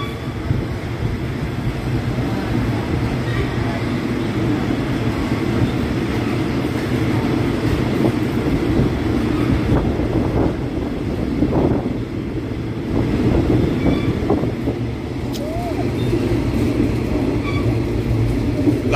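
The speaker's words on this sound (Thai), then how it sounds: "นี่สามหัวเคลื่อนออกครับ" A train headed by three locomotives pulls out of Sisaket station in Thailand, a steady loud rumble of engines and rolling wheels with clanks and squeals over it, continuous and close.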